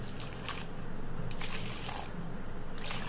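Oats are stirred with water into a batter in a bowl, giving soft wet squishing and slopping sounds in repeated close strokes, with no talk.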